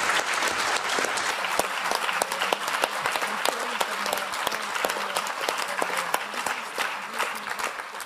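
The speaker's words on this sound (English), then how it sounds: "I'm sure you've heard the applause from this side" Audience applause after a panel Q&A session, a continuous crowd of clapping hands with sharp individual claps standing out, steady and fairly loud throughout.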